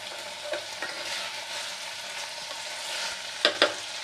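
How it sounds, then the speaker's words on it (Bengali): Tomatoes are stirred in a pan with boiled potatoes and eggplant for a Rajasthani-style aloo begun, a steady sizzle running throughout and two sharper utensil scrapes near the end, with no voices. "টমেটোগুলোকে একটু ঘেটে ঘেটে দেবো।"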